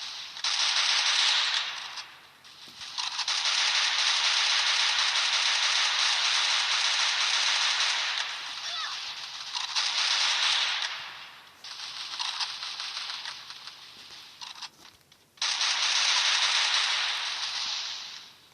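Rapid automatic gunfire from the mobile shooter game Free Fire, loud, dense bursts that run for several seconds at a time with short pauses between them and no talk.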